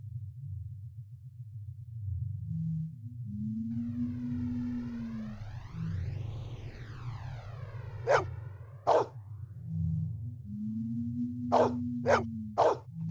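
A dog barks several times in a film scene, sharp repeated barks near the end over a steady low rumble and swooping synthetic tones.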